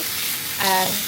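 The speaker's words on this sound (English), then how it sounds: "fry it off in a little bit of olive oil" Steady hiss of chicken frying in olive oil close by, with a brief tonal scrape or clatter near the end as the chicken shifts in the pan.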